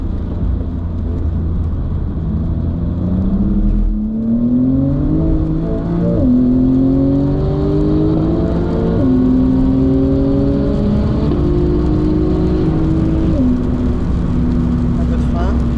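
A Porsche race car engine on a circuit, pulling hard through repeated upshifts with rising, stepped whines of revs, loud and close inside the car, with faint talk underneath.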